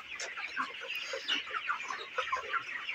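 Broiler chickens on a poultry farm keep up a steady chorus of overlapping clucks and murmurs, a busy flock close by and moderately loud throughout, with no talking.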